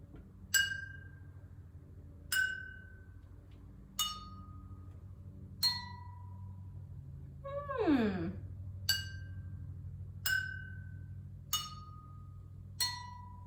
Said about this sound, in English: tapping each glass